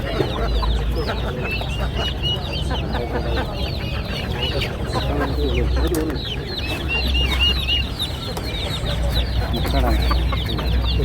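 Native chickens cluck and chatter continuously at a chicken market in Kottakkal, with other birdsong and a busy, crowded hum in the background throughout.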